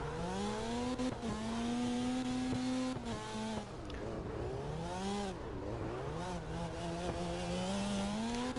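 Falcon FC 90 S race car engine in CarX Drift Racing, revving in a loud, high-pitched whine that climbs, dips and climbs again through gear changes, with no one talking.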